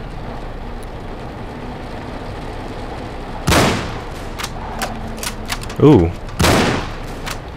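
Gunfire in Cryostasis: Sleep of Reason, with a few sharp, loud shots standing out over a low rumbling background, one followed by a ringing tail; a voice makes a brief exclamation between shots.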